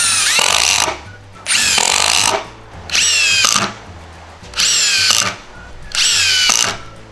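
Makita 40Vmax TG001G and HiKOKI 36V MultiVolt WH36DC impact drivers driving screws, five loud, close bursts of rapid hammering impacts about a second and a half each, separated by short pauses.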